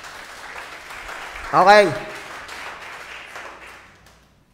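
Applause from a church congregation during a sermon, a brief swell of clapping under the preacher's continuing talk, fairly close and moderate in level.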